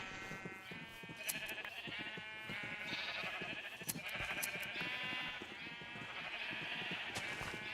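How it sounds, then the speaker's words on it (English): Sheep bleat in the Minecraft video game, several overlapping bleats sounding repeatedly at a fairly close, steady level over faint background clicks, with no talking. "Sheep, you're so noisy."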